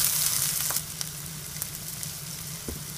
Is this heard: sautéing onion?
yes